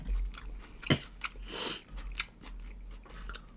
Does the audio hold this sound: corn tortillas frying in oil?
no